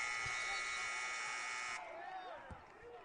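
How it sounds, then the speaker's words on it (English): A loud, steady electronic shot clock buzzer blares for almost two seconds at a college basketball game between Arkansas State and Louisiana, then cuts off, leaving crowd noise and sneaker squeaks. "to shoot the basketball before the buzzer sounded"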